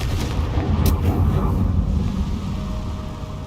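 Confringo fire spell blasting in the Hogwarts Legacy video game, a loud booming explosion that rolls into a dense low rumble and fades slowly.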